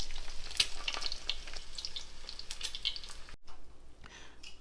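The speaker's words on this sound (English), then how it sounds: "So right now I'm just gonna fry the eggs" Eggs fry in extra virgin olive oil in a pan, a close, steady crackling sizzle with scattered sharp pops and spits that briefly drops out and then resumes more faintly.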